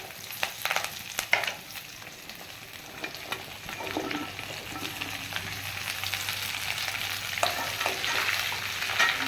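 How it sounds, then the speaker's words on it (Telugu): Okra frying in oil with curry leaves, a close, continuous sizzle with scattered crackles and stirring scrapes, moderately loud and steady throughout with no voices. "ఇప్పుడు బెండకాయలు వేసుకోవాలి."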